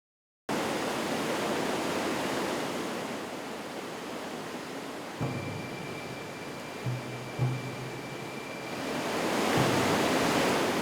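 Ishy Fishy Falls on the Klamath River roars in a steady, constant broadband rush of falling water heard close up, briefly swelling and easing with no voices.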